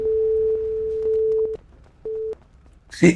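A telephone busy tone beeps in long, evenly spaced pulses, then cuts off, followed by a brief burst of noise.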